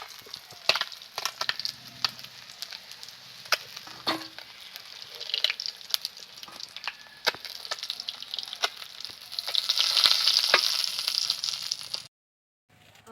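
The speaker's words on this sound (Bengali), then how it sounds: "মাছ ভাজা তেলের মধ্যে দিয়ে দিচ্ছি ফোড়নে একটু শুকনো লঙ্কা আর হাফ চামচ পরিমাণ কালো জিরে।" Dry red chillies and black cumin seeds sputtering in hot oil left from frying fish, a close, crackling sizzle with sharp pops and stirring clicks that swells louder before cutting off abruptly.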